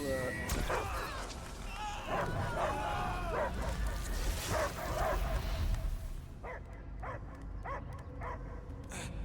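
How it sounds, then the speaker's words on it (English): A dog barking and whimpering in the Guardians of the Galaxy video game, repeated yips and barks mixed with game dialogue and sound effects, then a series of sharp barks near the end. "I hear only barking."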